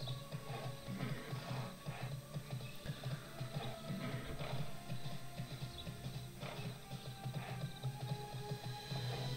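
A horse ridden through the Tera online game world clip-clops in a steady, rhythmic gallop of hoofbeats, moderately quiet with faint mechanical ambience behind and no talking.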